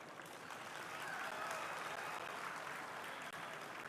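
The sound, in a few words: audience applause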